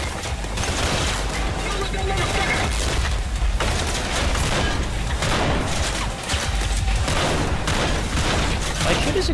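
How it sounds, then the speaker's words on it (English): A minigun firing in the video game Tripang 2, with dense, continuous loud gunfire and booming blasts that fill the whole stretch. "Actually, is that a minigun?"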